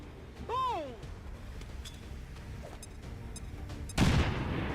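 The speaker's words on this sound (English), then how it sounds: "just lob a grenade on top of him then" A grenade detonates in XCOM 2, a sudden loud close blast near the end following a whistling, warbling tone and scattered clicks, with the explosion's rumble trailing off.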